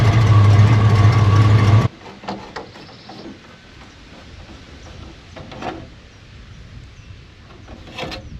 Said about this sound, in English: I'll let it run here a little bit to dry the engine out